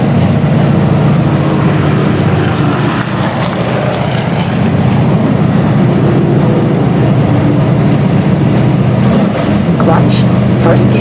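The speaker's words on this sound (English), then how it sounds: "Look at you, revving up your engine." A NASCAR stock car engine at Dover revs loudly and steadily from start to finish, with a deep low rumble and dense mechanical roar heard up close from inside the car.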